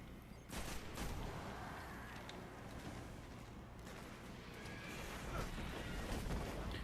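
Gunfire in the video game Destiny comes as bursts of heavy, punchy shots over a constant low rumble, played back at a fairly low level.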